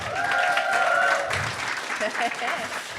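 Studio audience applauding podcast guests at a French-language show, a steady wash of clapping running for a few seconds, with a voice talking over it and a sustained tone in the first half.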